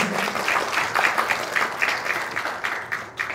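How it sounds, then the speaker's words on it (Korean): Applause from an audience at a community time-bank case-sharing event, steady dense clapping filling the room for a few seconds, fairly close and fading slightly toward the end. "박수 한번 부탁드릴게요"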